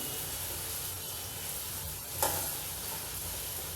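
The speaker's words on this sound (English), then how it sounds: "we need to sear the pieces of mutton nicely" Mutton pieces searing in a pan with whole spices, onion and ginger garlic paste, a continuous even sizzle with one brief scrape near the middle, close and steady.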